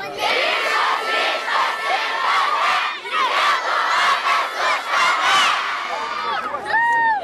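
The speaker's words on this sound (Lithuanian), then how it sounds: "visi rėkiam, skanduojam normaliai" Crowd at a Lithuanian sports cheering event shouting and chanting together, loud and close, with rhythmic surges of massed voices and high whoops near the end.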